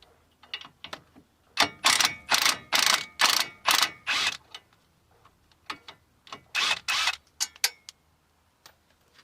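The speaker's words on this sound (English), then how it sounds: "I'm going to use an impact gun because I got one" A pneumatic impact gun spins a nut off the shock absorber stud of a 2016 Vauxhall/Opel Corsa. It fires in two bursts of loud, rapid hammering rattles, with quieter clicks before, between and after them.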